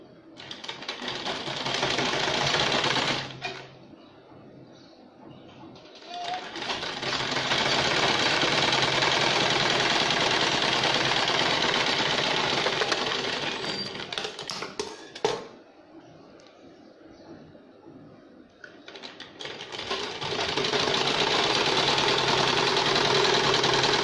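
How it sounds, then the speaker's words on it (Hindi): A domestic sewing machine stitches the drawstring cord onto a newborn baby's cap in steady, loud bursts, running about three seconds, pausing, running again for around nine seconds, then stopping and restarting. "इस तरह से हम डोरी को सिलेंगे। पहले हम सेंटर से सिएंगे।"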